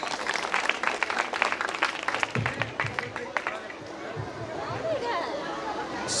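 An audience applauds at a Saraswati puja stage programme with quick, dense clapping that thins out after a few seconds, while crowd chatter and murmuring carry on underneath.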